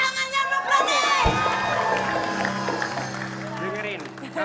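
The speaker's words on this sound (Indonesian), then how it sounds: "Mana suaranya Brownies? Mana-mana? Mohon maaf. Mana tepuk tangannya lu Brownies?" Studio audience at an Indonesian TV comedy show cheering and shouting loudly, a continuous crowd roar with voices rising over it and a host speaking through the noise.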